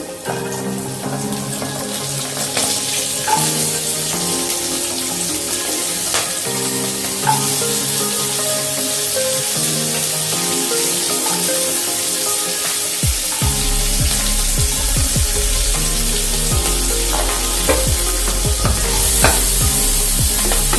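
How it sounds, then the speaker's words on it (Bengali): Green beans fry in a pan of oil for navratan pulao, giving a steady sizzle with stirring and metal scraping throughout. Tonal clatter and background hum run underneath, and no one speaks. "এবার আস্তে আস্তে এগুলো আমি ভেজে নেব। আমি বিনসগুলো দিয়ে দিলাম।"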